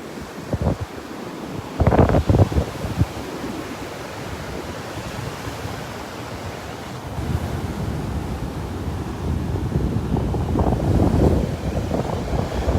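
Wind buffets the microphone over steady surf breaking on the beach at Delnor-Wiggins on a rainy, windy morning, a loud continuous roar with gusts swelling and easing and no talking.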